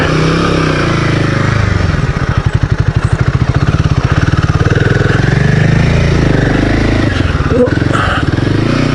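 A Royal Enfield Himalayan 450 motorcycle engine pulling in first gear off-road, a loud close throbbing thump that settles into a fast steady pulse, with no talk over it.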